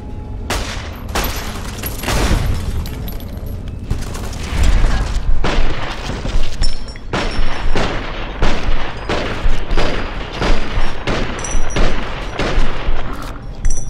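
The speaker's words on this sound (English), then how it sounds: "Oh, they're turrets! I couldn't figure out what was taking me out like crazy." Rapid turret gunfire in Fallout 3 crackles in dense bursts with heavy booms and mechanical clatter, sustained and loud across the whole stretch with no talk.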